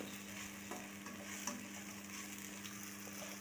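Green masala paste and chicken sizzle steadily in a hot oiled pan, with stirring scrapes and faint crackles running continuously at moderate volume and no voices.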